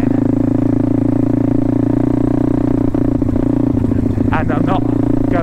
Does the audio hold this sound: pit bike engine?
yes